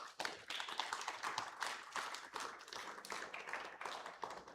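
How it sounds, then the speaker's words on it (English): Dense, continuous audience applause at a 1 Million Cups meetup in Brownsville, Texas, with many hands clapping loudly and steadily throughout and no voices on top. "So let's please give it an applause"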